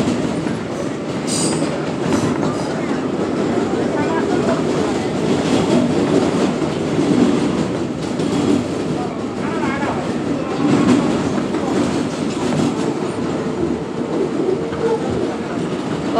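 New York subway 7 train with R188 cars running on rails, a steady loud rumble and rattle from inside the car throughout, with faint wheel squeal and brief voices in the background.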